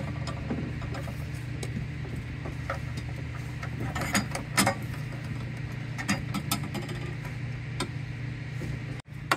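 Quarter-20 bolts are driven in with a 10 mm tool on a rear sliding shelf in an Ineos Grenadier, giving a run of quick, light metallic ticks and clicks close by over a steady low hum, with no talking.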